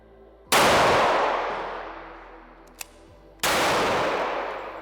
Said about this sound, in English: We've got a Kimber 45 auto stainless match here. We've got a 145 grain hollow point metal jacketed bullet here. Let's test this next.